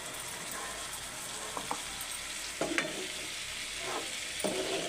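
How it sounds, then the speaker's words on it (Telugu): Brinjal frying in a pan, with a steady oily sizzle and scattered scraping clicks of a spoon stirring the pieces, close and continuous without any talk. "మంచిగా వేయించుకుందాం. దగ్గరకు వచ్చిన దాకా వేయించుకోవాలి."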